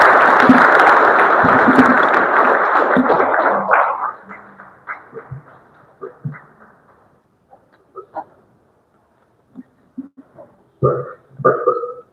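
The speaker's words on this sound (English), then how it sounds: "Can we please keep clapping until we meet his way to the podium?" Audience at a university event on environmental sustainability applauds as a professor walks to the podium: dense, loud clapping for about four seconds, then it thins into scattered claps, thumps and a few voices.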